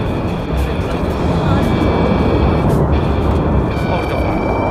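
Military aircraft flying at an air show during the US Marine Corps Air Station Iwakuni Friendship Day base festival, a loud continuous roar and rumble filling the scene, with crowd chatter and voices underneath.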